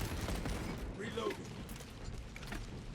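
Heavy bolt rifle being reloaded in a sci-fi shooter video game, a dense clatter of mechanical clicks and ratcheting parts over continuous battle noise and distant gunfire.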